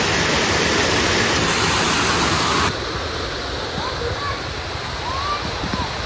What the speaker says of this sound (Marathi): गाईज वातावरण बघा, धबधबा बघा.